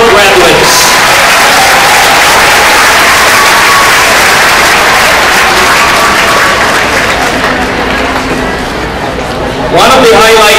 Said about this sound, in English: A big round of applause to our graduates.